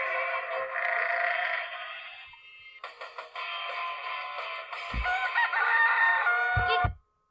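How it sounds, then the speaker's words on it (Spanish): A rooster crows loudly on a farm, in two long drawn-out calls, with a few soft clucks in between. "Así imitó el canto del gallo, pero en realidad suena de esta"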